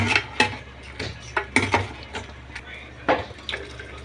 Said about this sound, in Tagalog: Lagyan natin siya ng tubig para mas maraming sabaw.